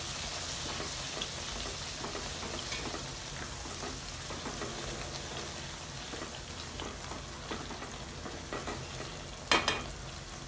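Powdered spices (coriander, turmeric, chili and salt) sizzle and fry in a pan on a low flame while being stirred for mutton pasanda, with a steady crackling hiss broken by soft scraping and a brief louder clatter near the end.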